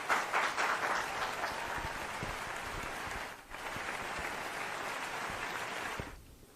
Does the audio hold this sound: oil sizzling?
no